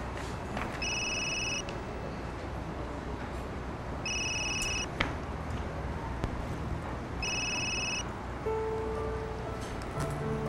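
A cell phone rings in repeated electronic bursts of about a second each, spaced a couple of seconds apart, over steady background hiss and rustle, with a few other faint tones near the end.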